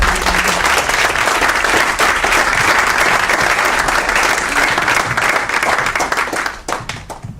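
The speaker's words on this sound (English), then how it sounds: "let's give a round of applause for these guys" A crowd at an off-road Q&A event gives a sustained round of applause, loud and dense, tapering off in the final second.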